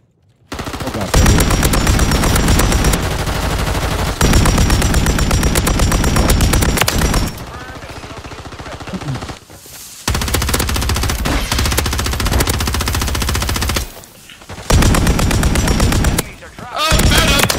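Bursts of LMG machine gun fire in the Warzone video game on Rebirth Island, loud sustained volleys separated by brief pauses, with several long strings of rapid shots.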